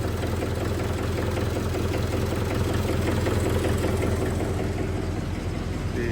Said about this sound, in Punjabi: ਭਾਈ ਦਾ ਟਰੈਕਟਰ ਸਟਾਰਟ ਕਰਤਾ